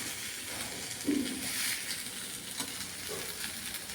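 Sandwich made with brown bread roasting in a pan, a soft continuous sizzle and hiss with a few faint scraping stirs, close and steady with no talking.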